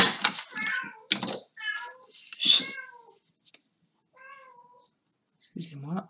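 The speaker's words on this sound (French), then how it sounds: "c'est mon chat qui fait un peu n'importe quoi" A pet cat meows repeatedly near a scrapbooking table, a run of close, clear, wavering calls of varying length with short gaps, plus a breathy sound at the end.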